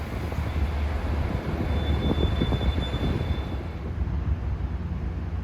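Long Island Rail Road train 2709, Montauk to Jamaica, pulls in with a continuous loud rumble and rattle of cars, a thin high squeal drifting over it.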